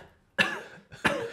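Two distinct coughs, close and fairly loud, separated by a short pause, with no talking.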